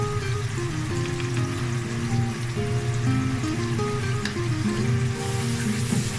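Spices and onions fry in a pan for a deshi chicken curry, making a steady close sizzle with faint crackles that runs on without pause.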